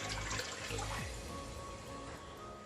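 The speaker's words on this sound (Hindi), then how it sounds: "कढ़ाई में मैंने 2 लीटर पानी डाला है।" Two litres of water poured into a kadhai on a lit stove, a loud close gushing splash that gradually settles.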